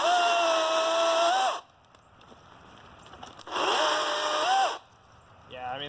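A DeWalt or Milwaukee cordless chainsaw cutting wood whines in two loud, sustained bursts with a quiet pause between them, then revs briefly again at the end.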